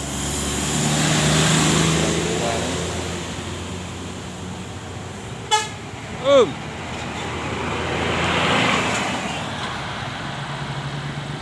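Intercity buses rolling into the BRPS bus terminal in Pekanbaru, low engine rumble swelling and fading as they pass, with a couple of short horn or brake squeals midway over steady traffic background.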